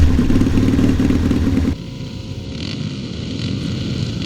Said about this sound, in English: let's have a quick look at this Rickman Triumph on the racetrack